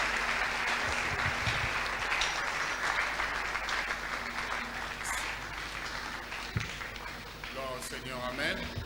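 A church congregation bursts into sustained applause and cheering as the pastor approaches, a dense steady wash of many clapping hands lasting throughout, with voices speaking over it.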